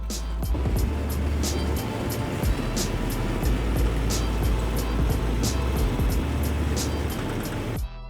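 A tracked all-terrain vehicle, a double-tracked motordog, drives across bumpy dirt with a steady low engine rumble, rhythmic track clatter and sharp repeated clicks, close and continuous until it cuts off at the end.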